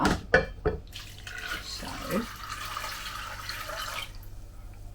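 Cold water pours over black peas in a saucepan, a few sharp clanks at the start, then a steady, close splashing gush that cuts off near the end, with a brief spoken word.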